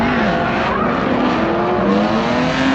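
A drift car on track at an Ultimate Drifting Challenge Pro Light round at Apple Valley, its engine roaring loud and steady with wavering pitch as it slides through a practice lap, possible tire squeal blended in.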